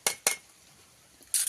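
A spoon clinks against a metal bowl while adding strained yogurt to masala for bhetki paturi: two quick bright scrapes, a short pause, then one more clink, close and distinct.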